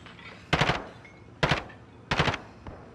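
Machine gun fire in a Call of Duty match: three separate short rapid bursts, each a quick cluster of sharp shots, spaced about a second apart and fairly loud.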